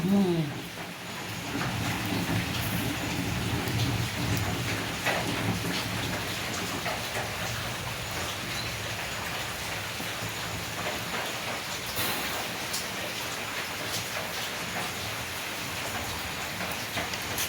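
Heavy rain pours steadily in a Konkan village, a dense, constant hiss of drops on surfaces that lasts throughout with no break.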